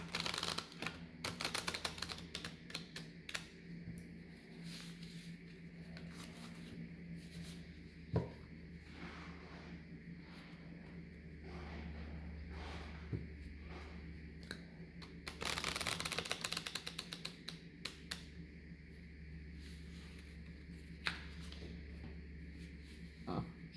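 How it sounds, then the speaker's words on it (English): Tarot cards being shuffled close up, soft riffling and rubbing in repeated bursts with quiet pauses between, no voices. "first I'm going to shuffle the cards"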